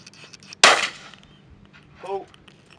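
A single sharp shotgun report at clay targets, fairly close, followed by a brief voice.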